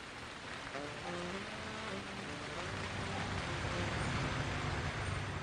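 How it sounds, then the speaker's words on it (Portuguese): Heavy rain pouring without pause from a low grey cloud, a dense, even hiss that holds steady the whole time, with a faint low rumble underneath. "E a chuva que larga parece nunca mais ter fim."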